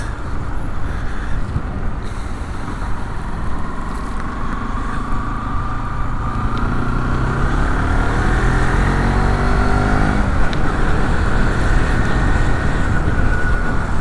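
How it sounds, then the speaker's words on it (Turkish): A motorcycle engine rises in pitch as it revs and accelerates, heard through heavy wind buffeting, steady and loud throughout. "Şuradan bir gaz açalım."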